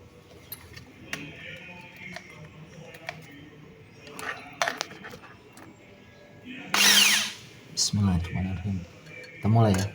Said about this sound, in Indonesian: Sekarang kita mulai ngebor.